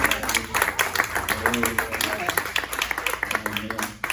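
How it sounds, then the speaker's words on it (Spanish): Church congregation claps loudly in sharp, irregular bursts during a service, with voices talking and calling out over the clapping. "Dale un fuerte aplauso, hermano."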